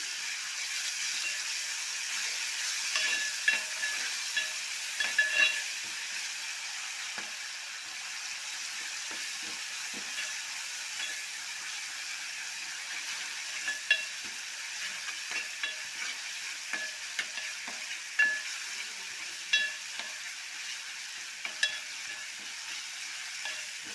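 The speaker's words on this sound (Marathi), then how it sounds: "आता आपल्याला चांगलं असं लालसर करून घ्यायचं आहे वाटण" Ground coriander masala paste for a shivda fish curry fries steadily in oil, a continuous soft sizzle punctuated by occasional spoon scrapes and stirring clicks, with no voices.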